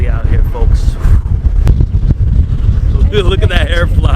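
Wind buffeting a microphone on a ferry ride toward Wall Street past Rikers Island, a loud low rumble with boat engine drone beneath, while someone talks over it.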